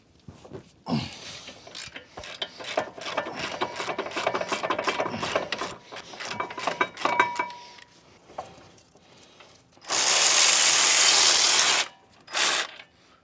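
A ratchet works loose the front brake caliper bolts on a car, with bursts of rapid pawl clicking across several seconds, then a louder sustained whir and a short final burst, close up with no speech.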